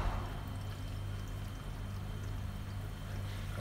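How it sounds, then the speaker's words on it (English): Soda water from a can poured gently into a mint syrup mixture for apple mint soda, a steady soft fizzing pour running throughout at close range. "I'm going to pour it in gently because I do not want the fizziness to die out."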